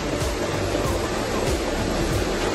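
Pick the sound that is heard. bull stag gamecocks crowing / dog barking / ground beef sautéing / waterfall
waterfall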